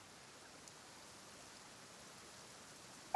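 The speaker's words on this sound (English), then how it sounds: "Why is it raining all of a sudden?" Rain falling in the video game Genshin Impact, a soft uniform hiss of drops pattering on surfaces, continuous and fairly faint, with no voices.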